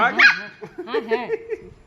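A pet dog with a cold and a weakened voice gives a short run of strained barks and whimpery yips close by, mixed in with someone talking to it.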